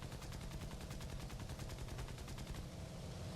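Rapid automatic gunfire in an online shooter game, a dense, continuous burst of loud shots that keeps up a steady rattling rhythm for the whole stretch, with no talk over it.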